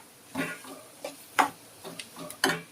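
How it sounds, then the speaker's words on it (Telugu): Spatula scrapes and stirs ingredients frying in a pan for egg keema curry, about five separate brisk strokes spaced through the clip over a faint background. "ఇవి ఇలాగా వేగుతున్నప్పుడు ఇప్పుడు హైలో పెట్టి వేపచ్చు"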